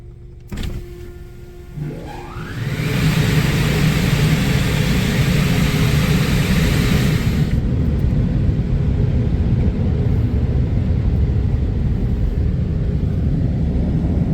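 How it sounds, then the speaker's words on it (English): Dryer blowers of a Futura Millennium car wash start up with a rising whine and settle into a loud, steady roaring blast, heard from inside the car, with a sharp drop in the hiss partway through while the low rumble continues. "Alright, that means it's dryer time."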